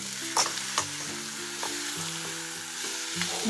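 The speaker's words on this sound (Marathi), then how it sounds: "सर्वात शेवटी ही कोथिंबीर यामध्ये मिक्स करायची" Chopped coriander is stirred into a capsicum stir-fry in a pan, with a soft sizzle underneath a series of spatula scrapes and light taps against the pan.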